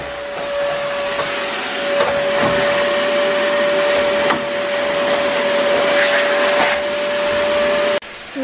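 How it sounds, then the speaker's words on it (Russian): A household vacuum cleaner runs steadily and loudly with a constant motor whine and airflow roar, cutting off abruptly near the end. "что он месяц пылесосит"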